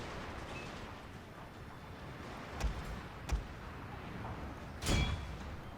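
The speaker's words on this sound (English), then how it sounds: "So massive amount of artillery being sprayed upon these guys." Artillery fire in the Total War: Fall of the Samurai strategy game, three distinct booms over a steady battlefield rumble, the last heaviest and longest, at moderate distance.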